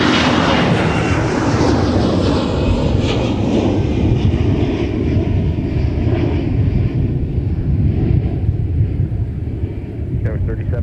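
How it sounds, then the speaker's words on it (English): A Delta airliner in Thank You livery takes off from the runway at MSP airport, bound for Salt Lake City. Its loud jet roar rumbles steadily and slowly fades as it climbs away. "right on down the runway, we got the Delta Thank You livery that is now taken off"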